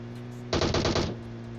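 Gunfire in the PUBG Mobile video game, a single quick burst of about half a dozen rapid automatic shots, crisp and prominent over a steady low electronic hum.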